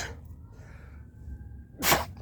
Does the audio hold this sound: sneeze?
yes